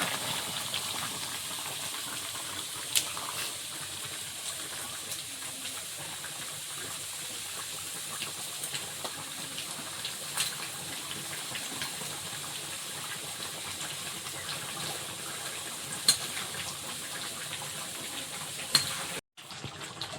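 Rohu and catla fish pieces simmer in a pumpkin curry, giving a steady, close bubbling hiss that runs unbroken, with a brief clatter near the end.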